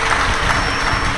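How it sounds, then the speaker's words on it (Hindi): Loud, dense applause from an audience at a Shiv Mahapuran katha, sustained clapping from a large crowd that fills the whole moment. "एक बार जोरदार ताली बजाकर इनके लिए स्वागत"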